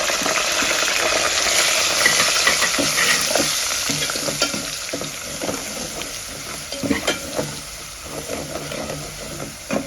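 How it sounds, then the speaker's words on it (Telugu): Crushed black pepper, garlic and cumin frying in hot oil while being stirred, a continuous close sizzle broken by scraping stir strokes, no speech. "సో ఇది ఆయిల్లో బాగా మగ్గల్లా మగ్గనిద్దాం"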